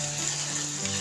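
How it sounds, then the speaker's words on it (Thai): Minced pork dry-frying in a pan for larb gives a steady, close, bright sizzle with faint stirring throughout the short stretch. "เอาหมูมาคั่วนะคะ"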